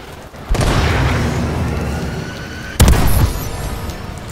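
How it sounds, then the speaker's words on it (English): Missile strike explosions in Call of Duty: Advanced Warfare, two loud heavy booms, the first settling into a long rumble and the second a sharper blast near the end, with no talk. "Friendly missile strikes inbound."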